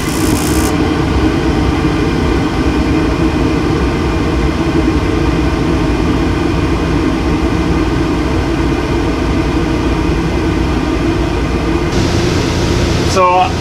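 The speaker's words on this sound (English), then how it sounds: "I'm going to fire up the heater and we'll see what it drops to." Hot Dawg 60,000 BTU gas heater running: a loud, steady broadband roar with a low rumble that holds evenly throughout, with a brief higher hiss near the start and end.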